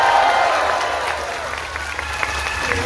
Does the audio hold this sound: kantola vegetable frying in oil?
no